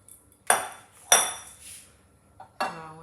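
Quartered tomatoes tip into a pan already holding carrots and onions for tomato soup, making three separate clattering thumps against the metal, each fading out, with quiet gaps between.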